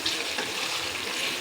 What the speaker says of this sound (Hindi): ये देखें गोश्त कितने अच्छे से भुनाई हो रहा है।